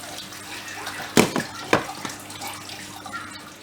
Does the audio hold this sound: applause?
no